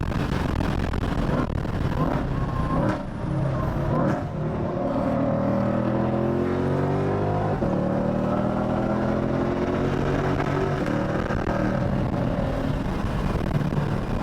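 Race car engine droning loudly and steadily through a lap at Road America, the pitch sweeping upward through repeated gear pulls with tire vibration rumbling underneath; a voice is faintly present.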